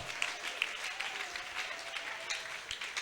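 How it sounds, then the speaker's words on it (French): Congregation in church clapping together in a steady, dense patter, moderately loud and continuous, without talk. "Come on, keep clapping better for Jesus."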